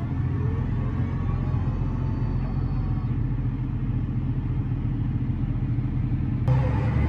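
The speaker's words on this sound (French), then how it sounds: "Il y a des Porsche et tout ça qui passent." Rally cars, Porsches among them, rumble past on a road with a continuous low engine drone that stays loud and steady, a slight shift near the end as another vehicle passes.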